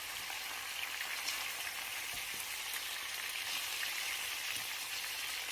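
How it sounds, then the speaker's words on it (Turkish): Pumpkin sizzles steadily in a frying pan as it is stirred from the bottom up, a dense, even hiss like light rain, close by with no talking. "Yemeği karıştırmayı unutmayalım. Alttan yukarı karıştıralım."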